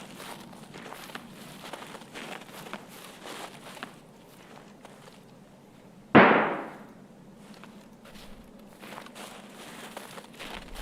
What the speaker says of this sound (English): So hard to tell where those gunshots were from.